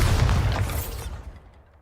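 A Bombarda spell detonates in Hogwarts Legacy, a loud booming blast with heavy low rumble that decays steadily over about two seconds, with no voices.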